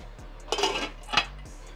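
A metal lid settles onto a pot of Korean army stew with cabbage, giving two distinct clanks about half a second apart, over a low steady background hum.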